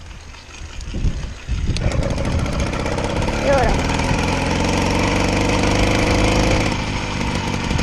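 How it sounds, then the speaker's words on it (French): An 80cc motorized bicycle engine is started and settles into a loud, rattling two-stroke idle that runs steadily, with someone speaking briefly near the start. "on va essayer de le démarrer tout doucement"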